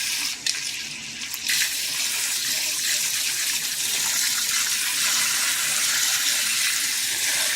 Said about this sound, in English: So just fill them full of water.